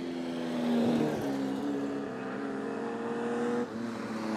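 Nostalgia sedan race car number 63 at Lockyer Valley Speedway in Gatton, engine winding up loudly along the back straightaway past the grandstand, a steady harmonic roar that climbs and shifts pitch with no talk.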